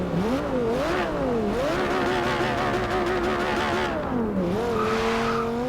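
A Lamborghini with a 5.2 litre engine in Forza Horizon 2 revs and shifts through the gears, its loud, continuous engine note rising and dropping repeatedly with occasional tire squeal.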